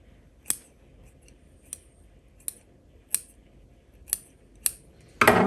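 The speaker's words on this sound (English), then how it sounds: "I'm just going to snip off some of the roots on here." Sharp metal scissor snips cutting the roots of a bonsai grown in water, about six crisp separate cuts at uneven intervals, close and clear, ending in a short burst of rustling handling noise.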